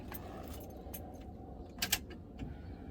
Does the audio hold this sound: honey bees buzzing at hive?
no